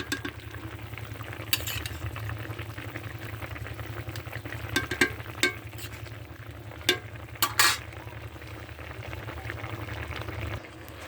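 Black cumin, black pepper and cumin frying in a pan for a fish curry, heard as a low steady sizzle with a few sharp scraping stirs, fairly quiet and close, with no talking.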